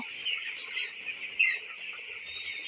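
Twenty-day-old broiler chickens on a farm keep up a continuous, high-pitched chorus of cheeping and clucking from many birds at once. The sound is close and steady, with no one speaking.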